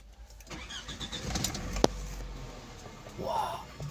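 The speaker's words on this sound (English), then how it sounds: "So let me start the vehicle." A Toyota car engine, a Noah, Voxy or Alphard, cranks and starts with a brief sharp catch, then idles as a low steady rumble at close range, with faint birds in the background.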